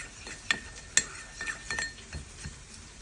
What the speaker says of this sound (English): I take a half a teaspoon of turmeric and I add it to the oil, and I'll mix it together.